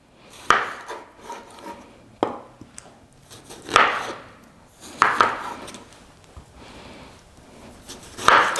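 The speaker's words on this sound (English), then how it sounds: "Get these tomatoes cut up." A knife chops tomatoes on a cutting board in a home kitchen, with about six sharp, spaced cuts landing close and clear and no talking in between.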